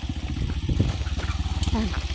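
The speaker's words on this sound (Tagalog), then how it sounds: "Magtutulak kami ng motor." A motorcycle is pushed along on a coconut farm while its engine chugs in a rapid, steady pulse close by, and people talk over it.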